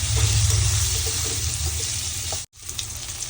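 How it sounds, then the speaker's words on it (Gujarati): Garlicky stuffed okra (bhindi) fries and is stirred in a pan, a steady, fairly loud hiss that cuts out briefly near the end, then returns a little softer. "ભરેલો ભીંડો ફ્રાય થઈ ગયો છે અને મિક્સ કરતું જવાનું છે"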